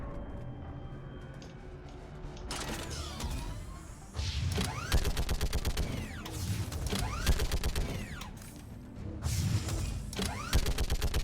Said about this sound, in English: I assume I get to use this cool turret